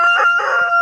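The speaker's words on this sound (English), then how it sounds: "This rooster, he's very sweet." A backyard rooster lets out a single close, loud crow, a short strained call filling the brief moment on its own.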